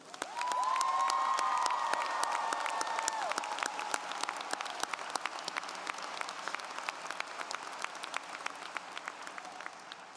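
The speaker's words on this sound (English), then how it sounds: "So please join me in a robust applause for Susan Ford, Alda Moore, and Warren Pruitt." Large crowd at a 2018 high school graduation ceremony bursting into sustained applause, a dense wash of clapping with a few whistles and cheers that gradually thins out.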